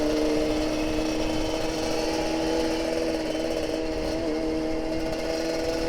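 A Kawasaki Ninja RR 150 two-stroke motorcycle drones loudly and steadily from a noisy exhaust on a morning group ride, a constant buzzing engine roar close by with no talk over it.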